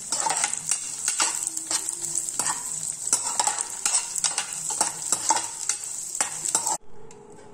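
Cashews sizzle in hot ghee in a pan for Tamil-style ghee rice, a loud, close, continuous frying hiss punctuated by repeated stirring scrapes, then it cuts off abruptly near the end.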